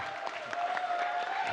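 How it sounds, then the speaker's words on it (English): Scattered clapping from an audience at a live speedrun charity event, faint and loose rather than a full ovation, over a steady hum and a sustained electronic tone. "Got some random clapping in the audience."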